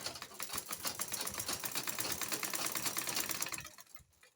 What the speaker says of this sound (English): I'm going to stitch it round now